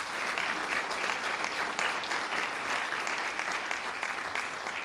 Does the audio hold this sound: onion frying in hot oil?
no